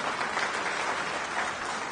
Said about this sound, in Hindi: पहले उनके लिए जोरदार ताली बजाइए